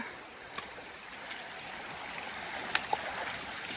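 Snowmelt water flows along a hiking trail on the Pacific Crest Trail, a soft steady trickle and rush with a few faint splashes and no talk.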